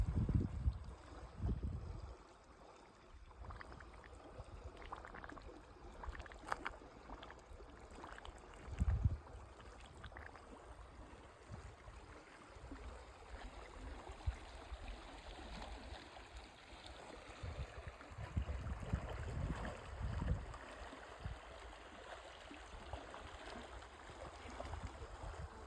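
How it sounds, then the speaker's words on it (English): Hot Creek in the Eastern Sierras bubbles from a hot spring vent in its middle, giving a soft, continuous burble and rush of water heard from a distance, with occasional low rumbling swells. "Bubbles out there in the middle, so there's a big vent in the middle of Hot Creek."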